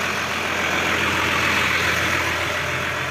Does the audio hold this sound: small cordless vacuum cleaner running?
no